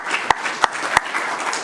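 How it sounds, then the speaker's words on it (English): Brief burst of audience clapping at a city council special meeting in Newark after an award is announced, a dense patter of hands with a few sharper claps standing out over about two seconds. "You can clap."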